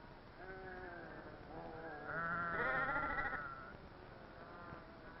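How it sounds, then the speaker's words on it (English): A flock of sheep in a rural Mexican village bleats, several overlapping wavering calls rising and falling, with a louder bunch of bleats in the middle, heard on a dull, narrow old recording. "like my friend Alfredo, have flocks of sheep."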